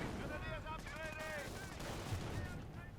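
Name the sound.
machine gun fire in video game Company of Heroes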